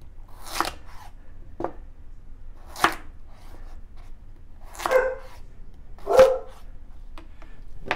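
Dogs barking indoors at a mailman, several sharp separate barks spaced a second or two apart, fairly close in a quiet kitchen with no talking.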